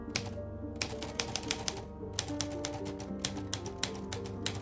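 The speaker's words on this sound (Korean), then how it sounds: "타자기가 몇 달 만에 다시 움직이기 시작했다." Rapid, steady typewriter key strikes clack close up at an uneven rhythm over a dense mechanical clatter, with sharp individual hits standing out and no voices.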